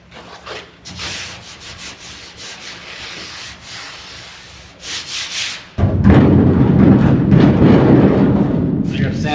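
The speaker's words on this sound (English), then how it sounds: "I gotta sand this still, this last little bit with the 80 grit" Bodywork on a '55 Chevy Nomad is sanded with 80-grit paper in uneven hand rubbing strokes, then a louder, continuous dense scratching takes over for the last few seconds.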